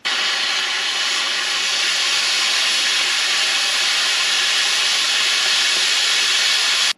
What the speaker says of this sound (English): Circle torched out here in the middle.